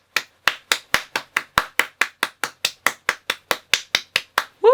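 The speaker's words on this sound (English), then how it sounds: "I'm clapping ahead of time." Hands clap about twenty times at a brisk, even pace, sharp and close, alone with no talk.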